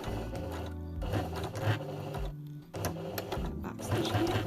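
Sewing machine stitching fabric for a reusable Christmas crown, its motor whirring in repeated short bursts with brief pauses between runs, close and steady.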